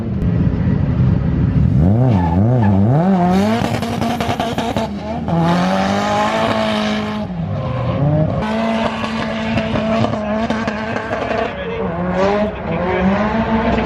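A drift car on a qualifying run at the British drift championship revs hard and surges through its gears while the tires squeal and skid in long wavering tones, loud and fairly close, with the engine note rising and falling.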